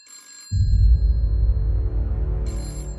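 A telephone bell rings in two short bursts at the start and end, clear and moderately loud, while a steady low hum of background music runs underneath.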